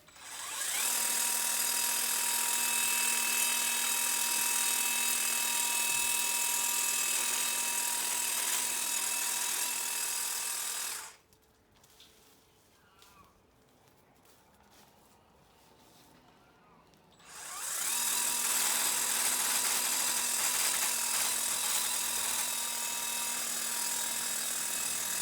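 A Sunseeker hedge trimmer attachment on a Greenworks string trimmer runs loud and close with a steady motor whine while cutting branches, stops briefly for a few seconds of near quiet, then starts up again.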